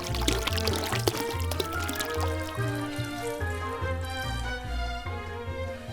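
A cure-and-water mixture is poured over meat for pepper sticks: a steady, near liquid pour with gurgling splashes and bubbly trickles lasting several seconds, with no talk over it.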